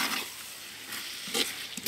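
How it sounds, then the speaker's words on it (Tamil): Chicken dum biryani masala with curd sautéing in a pot, a soft steady sizzle and frying hiss with brief stirring scrapes near the end. "தயிர் போட்டு நல்லா வதக்கியாச்சு"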